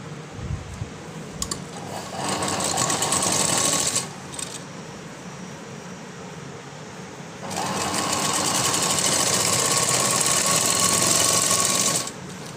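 A sewing machine stitching a floral frock runs in two loud, steady mechanical bursts, a short one and a longer one, separated by a quiet pause, close up with no talking.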